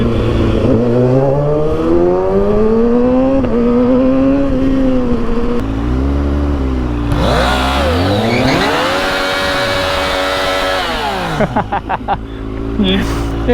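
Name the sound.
motorcycle engine revving during wheelies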